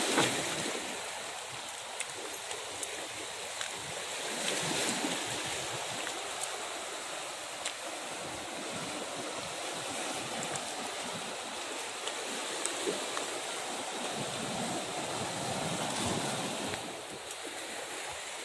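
Sea waves wash steadily onto the coast at An Binh, Quang Ngai, a broad hissing surf with gentle swells and some wind buffeting, continuous and moderately loud with no talk.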